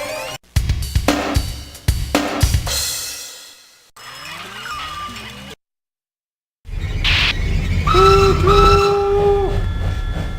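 Train rolling past in the 1994 PC game Blown Away, with clattering wheel noise and a rising whistle, then a gap of silence before a loud sustained multi-tone train horn blares near and alone.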